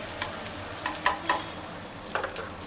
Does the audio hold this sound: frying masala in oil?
yes